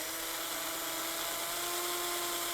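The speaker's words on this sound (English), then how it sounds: "let's start drilling these holes so we can get this light bar mounted up on this truck" A high-pitched power drill whine runs continuously and evenly, close by, drilling holes in a truck to mount a Putco Luminix LED light bar, with no pauses or voices.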